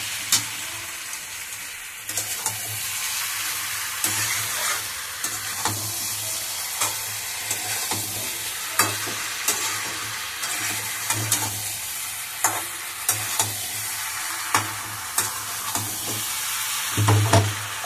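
Jackfruit and potato being stir-fried with spices, a steady sizzle with regular scraping stirs of a spatula through the pan, close and alone, growing louder near the end.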